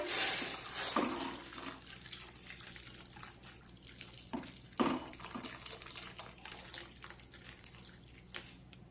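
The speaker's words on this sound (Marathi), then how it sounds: "यामध्ये गरम करून घेतलेलं पाणी टाकूया" Hot water splashes and pours steadily into a cooking pot of mixed vegetables, with a few sharper splashy bursts and clinks along the way, fairly close and alone without talk.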